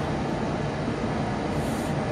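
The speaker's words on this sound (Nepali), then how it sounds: "अर्को ट्रेन आयो" A train pulls into an underground metro station in Belgium, its steady rumble and rolling rail noise filling the platform at close range, with faint voices mixed into the dense low roar.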